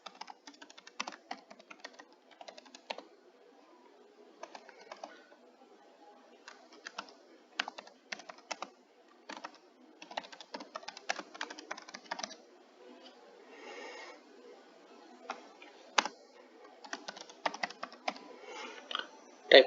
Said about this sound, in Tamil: அதில் நீங்கள் டாப்பிக்கை டைப் பண்ணுங்கள்.